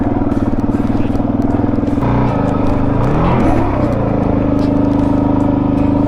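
Loud DRZ400 dirt bike engine grinding over rocky single track on 15/38 gearing, a constant thumping roar that shifts pitch midway as the rider feathers the clutch and revs through rough ground.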